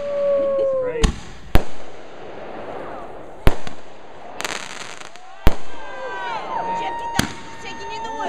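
New Year's fireworks and bottle rockets going off outdoors near woods: several sharp, loud cracks and bangs spaced irregularly, with whistling, crackling bursts between them and people talking throughout.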